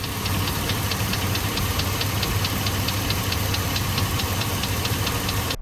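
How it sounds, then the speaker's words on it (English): Chevrolet Suburban engine idles steadily with a quick, even ticking from the lifters repeating throughout, close and continuous under a low rumble. "it has a small ticking noise from the lifters"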